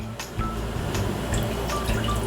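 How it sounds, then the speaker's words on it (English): Oxtail cooking juices pour into a pan of melted butter, a close, steady liquid splash and gurgle with a few drips, running continuously for a couple of seconds without talk. "we're going to add, oh yes, some of that beautiful cooking juices from our oxtail"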